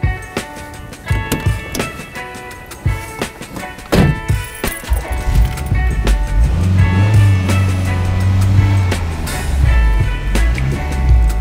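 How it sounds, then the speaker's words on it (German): A VW Golf 2 engine starts and settles into a low, steady rumble as the car pulls away, preceded by clicks and handling noises inside the car. "Ich fahr los."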